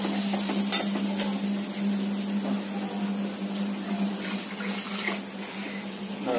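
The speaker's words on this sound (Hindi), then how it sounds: "इसको थोड़ा पानी डाल के हिलाना पड़ेगा।" Water is poured into thick dal makhani and stirred through in the pot, producing a continuous watery sloshing and sizzling texture with occasional spoon scrapes over a constant low hum.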